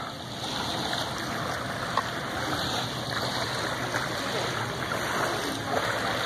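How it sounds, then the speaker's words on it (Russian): Small waves lapping and washing onto the sandy Volga riverbank at Samara on a dark evening embankment, a continuous soft splashing hiss with occasional sharper slaps, fairly close. "вот послушайте, речной прибой, а ничего не видно, волны"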